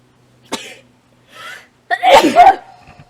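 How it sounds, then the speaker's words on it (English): A person sneezes during a nasal rinse: a short intake and a faint breath, then one loud, close, explosive sneeze trailing off into a snort. "Yeah, it is making you sneeze."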